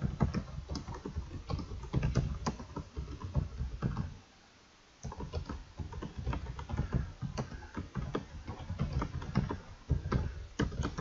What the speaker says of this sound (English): start typing them in